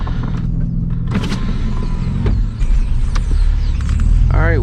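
A bone-stock Nissan 350Z rolls along wet backroads, its engine a steady low rumble close up, with tyre hiss on damp pavement and scattered clicks and knocks through the cabin.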